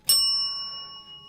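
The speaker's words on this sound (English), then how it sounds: "I'm going to ring my bell." A small hand bell rung by a tarot reader gives a single bright ding that sustains and slowly fades, heard alone up close.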